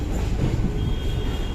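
The Darbhanga–Saharsa passenger train runs through rain, a continuous low rumble of rolling wheels and carriages with a faint high squeal of wheels coming in partway, steady and close.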